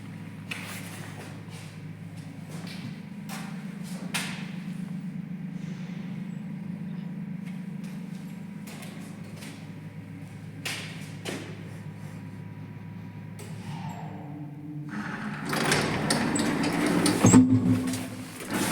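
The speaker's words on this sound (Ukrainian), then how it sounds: "А зараз ми поїдемо на цьому ліфті вниз" A Strommashyna elevator going down: a steady low motor hum runs for several seconds among scattered clicks and knocks, then turns into a louder, broader rumble near the end.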